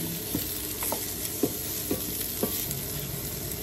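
Sliced white onion fries in a pan for a Filipino pinakbet recipe, with a steady sizzle and repeated light scrapes of stirring, heard up close and alone.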